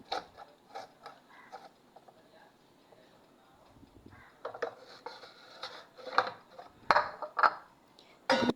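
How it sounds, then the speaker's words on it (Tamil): A knife chops ridge gourd into small pieces on a board, making a series of light, uneven taps and crisp cuts, close and quiet, growing busier toward the end, with faint speech in the background. "இப்போ நாங்கள் இதை சின்னதாக கட் பண்ணி எடுத்துக்குவோம்"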